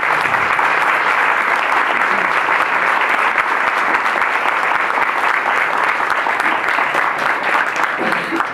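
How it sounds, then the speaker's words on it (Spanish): Loud, continuous applause from a sociology congress audience for a keynote speaker, dense clapping close and steady from start to finish with no pauses. "Bueno, un aplauso,"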